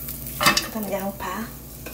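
Onion sizzling as it hits hot oil in a pan for bibimbap vegetables, with a short burst of frying and a stirring scrape, close and fairly quiet, with no talking.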